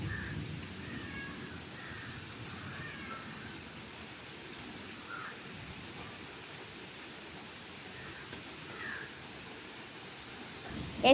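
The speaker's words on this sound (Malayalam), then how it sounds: "നല്ല മഴയാണ് കേട്ടോ പുറത്തൊക്കെ" Heavy rain falls outside a house as a soft, even hiss that holds steady and fairly faint throughout, with a small bump at the very end.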